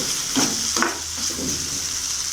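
Tomatoes sautéing in oil for bread chilli, giving a close, constant sizzle with a few soft stirring scrapes.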